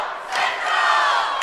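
An arena crowd at a high school state cheerleading final roars and cheers for the athletes, a loud, dense swell of voices that rises after a brief dip and holds strong throughout.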